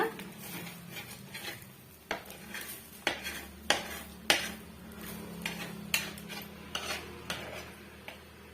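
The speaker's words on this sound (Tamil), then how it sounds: "லைட்டா இது போல கிளறி கொடுத்துக்குங்க" A spoon stirs snake gourd poriyal in a pan, making a string of sharp clinks and scrapes against the metal roughly every half second, over a faint sizzle, close up with no voices.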